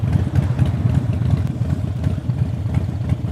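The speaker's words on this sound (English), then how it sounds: "sitting in all this traffic is not good for the engine." Motorcycle engine idling in heavy traffic and heating up, a loud, close, steady low-pitched chugging throb with rapid even pulses and a light clatter throughout, with no speech.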